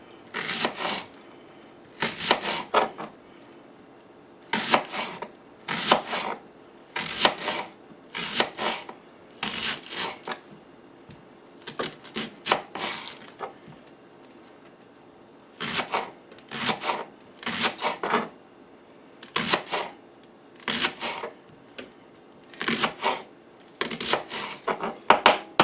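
A knife slicing leeks into rings on a cutting board, quick bursts of crisp chopping strokes separated by short pauses, close and fairly quiet with no talk.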